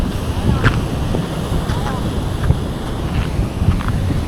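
Strong wind buffets the microphone in a steady roar, with faint rattles and a few brief knocks mixed in.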